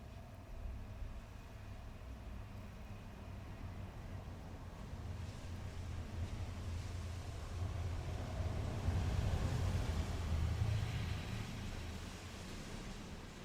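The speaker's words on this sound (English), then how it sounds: "Here comes a car or a vehicle." A car or other vehicle passing at a distance, its faint low rumble slowly building toward the middle and then fading, over a constant bed of wind noise outdoors.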